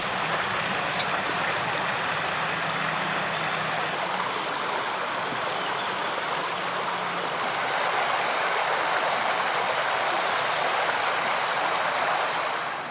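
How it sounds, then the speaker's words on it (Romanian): Water from a spring spills and rushes steadily at a roadside stop in the Valea Străjii area near Vatra Dornei, a loud continuous hiss with no talk. "curge apă"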